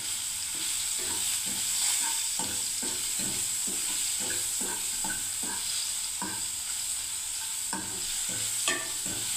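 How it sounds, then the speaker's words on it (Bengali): Paneer fries in hot oil with a steady, dense sizzle throughout, while a utensil taps and scrapes the pan in a quick repeated rhythm, close and loud, with no talking. "পনিরটাকে আমি ভেজে নিচ্ছি বন্ধুরা, তেল গরম হয়ে গেছে।"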